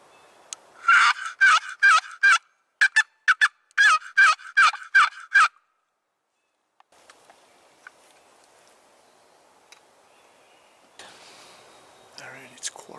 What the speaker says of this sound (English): Our first contact with a gobbler.